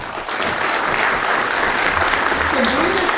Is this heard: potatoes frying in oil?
no